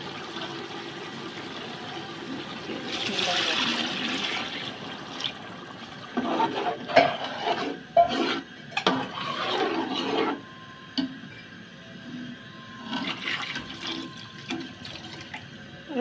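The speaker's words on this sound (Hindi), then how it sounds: "अब हम इसमें पानी शामिल करेंगे।" Water splashes and pours in uneven bursts into a cooking pot of vegetables, fairly quiet and close, with pauses between pours and no talking.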